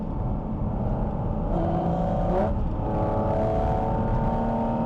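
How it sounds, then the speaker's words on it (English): Loud, steady engine drone and exhaust rumble from a Porsche 718 Cayman GT4 RS driving, with the pitch rising and shifting as it accelerates. "The exhaust noise is quite loud."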